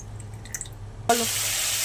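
Water splashes into spiced masala of salt, cumin and chili powder in a hot pan, a quiet moment then a sudden loud hiss and steady sizzle that continues to the end.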